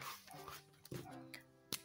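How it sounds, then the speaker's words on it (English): A dog barks and whimpers somewhere in the background, faint and distant, with a few sharp yaps standing out over soft whining tones. "I know you enjoy the barking"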